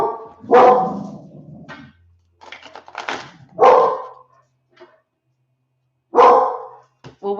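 A pet dog barks loudly indoors in three separate bursts spaced a few seconds apart, with quieter yips and shuffling in between.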